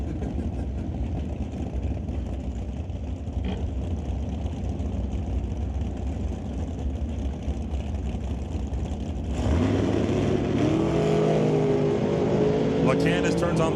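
Drag racing cars, among them the Artex Racing Camaro, run down the strip at Mission Raceway Park; a steady engine roar grows louder partway through and continues under an announcer's commentary.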